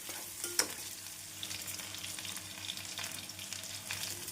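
Onions sizzle and crackle steadily in a hot pan, with an occasional scrape of stirring.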